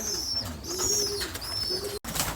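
Pet pigeons coo softly and call in a few short, soft notes while being fed, close by and alone.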